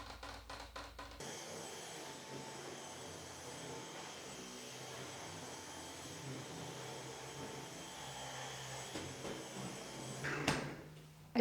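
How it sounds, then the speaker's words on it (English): A vacuum cleaner runs continuously while cleaning a dusty, empty room, a steady close whoosh and hum lasting several seconds, with a few knocks and bumps at the start and end. "I just wanted to do a quick vacuum because it was very dusty in here now that it's empty."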